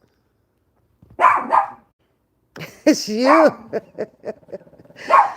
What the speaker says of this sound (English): I think he's barking at his shadow or something.